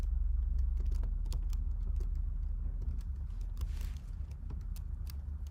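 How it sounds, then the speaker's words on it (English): Quick, irregular clicks of typing on a computer keyboard, fairly faint and steady over a low background hum, with no voices. "typing it in as we speak"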